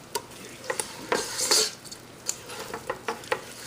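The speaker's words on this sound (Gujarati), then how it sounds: "હવે આને આપણે ફાઇન રીતે મિક્સ કરશું, પણ સાથે ઓલ્સો આપણે સાથે શ્યોર કરશું કે આપણે તોડી ના નાખીએ ચિકનને." A utensil stirs twice-baked chicken gravy in a pan with soft scraping and light clinks against the metal, close and moderately loud, in irregular strokes with no talk.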